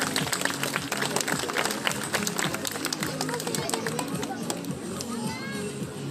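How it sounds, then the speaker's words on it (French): Zoo audience at a sea lion show applauding loudly and steadily, many hands clapping amid crowd murmur, with voices and music in the background. "Et on peut applaudir bien fort Cléo et Laura."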